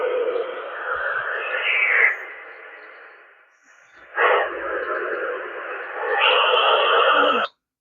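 Bursts of harsh radio static hiss through a handheld FRS radio picking up digital P25 and DMR interference, cutting out briefly before a second longer burst of buzzing noise returns, then stops abruptly as squelch kicks in.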